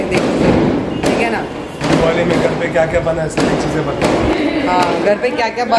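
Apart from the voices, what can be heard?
firecrackers bursting outside during Diwali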